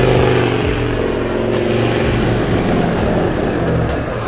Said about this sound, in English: So that is what the exhaust sounds like now.